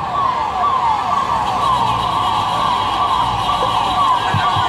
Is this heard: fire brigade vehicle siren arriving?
yes